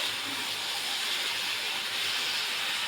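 Leafy greens sizzle and hiss steadily in a hot cooking pan as they are stirred, a dense, even frying noise with no pauses.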